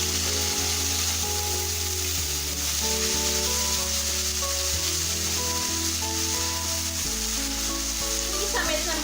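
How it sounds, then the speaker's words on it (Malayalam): Bitter gourd pieces frying in hot oil with curry leaves and green chillies, a steady close sizzle with occasional stirring scrapes and a burst of louder crackle near the end; no talking. "ഇപ്പൊ നമ്മുടെ പാവയ്ക്ക ഇവിടെ ഫ്രൈ ആയി വരുന്നുണ്ട്."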